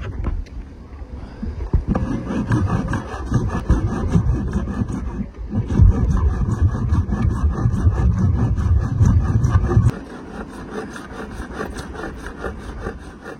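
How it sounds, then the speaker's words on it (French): Steady back-and-forth sawing with a Japanese saw through a Delrin plate, close and continuous with a rough rasping rhythm, easing slightly near the end. "Prendre la scie japonaise, ça va prendre un peu du temps."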